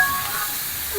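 A pressure cooker on a gas stove lets out a steady, close hiss of escaping steam, continuous and fairly loud for about a second with no talk.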